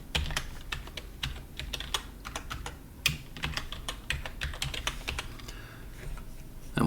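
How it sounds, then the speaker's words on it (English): Rapid typing on a computer keyboard, a steady stream of close, crisp key clicks with a few louder strokes, no speech over it. "we're going to be typing in the name of Julie Beasley"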